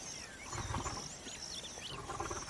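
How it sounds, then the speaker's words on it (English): A wild lion gives low, faint roaring grunts in two short bursts, set against distant background noise and high bird chirps. "The lion is probably the most familiar of all the big cats."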